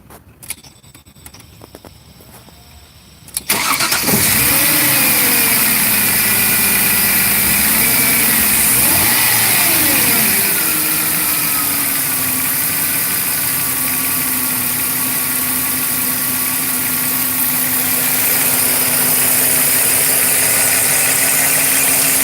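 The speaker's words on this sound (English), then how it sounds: "Try to crank it up one more time just to see the sound of the engine when it start." A Jaguar car engine cranks and catches, revving briefly before settling into a steady, close idle that hums on without pause.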